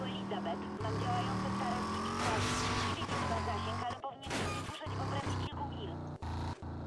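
A car in the video game Rage driving with a steady, loud engine drone and rising revs, then broken by sharp skids and bursts near the end, while someone talks over it.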